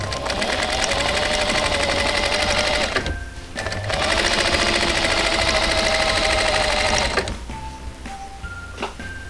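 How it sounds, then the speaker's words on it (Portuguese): A quilting sewing machine with a ruler foot stitches around an oval ruler in two long, loud runs of rapid rhythmic stitching, broken by short pauses with faint mechanical clunks and a quieter tail at the end. "agora eu vou deslizar o pezinho do quilting na volta da régua"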